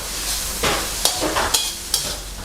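Mussels stir-fried in a wok with curry paste, fish sauce and sugar: a constant close sizzle with about four sharp metallic spatula scrapes and clanks in an uneven rhythm, with no talking.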